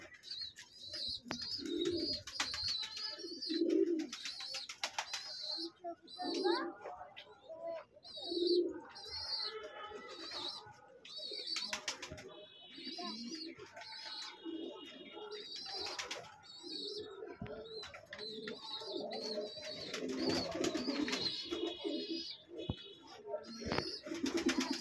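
Racing pigeons coo in a loft at feeding time while parents feed two chicks, soft repeated coos recurring through the clip with chirps and occasional wing flutters, and a person talking throughout.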